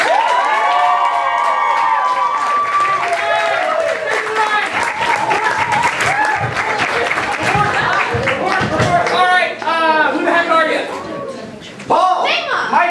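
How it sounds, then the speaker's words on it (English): A school drama audience claps and cheers for a troupe of improvisers, sustained applause with whoops and children's shouts, with voices calling out over the clapping throughout. "can I let's get a warm round of applause for my improvisers"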